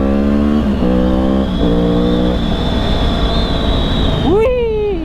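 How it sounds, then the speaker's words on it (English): Yamaha R6 motorcycle pulling hard through 2nd and 3rd gear, loud and close, engine pitch climbing in stepped bursts with quick gear-change dips, then a sharp rising rev at the end. "Riding this bike fast in 2nd and 3rd gear never gets old."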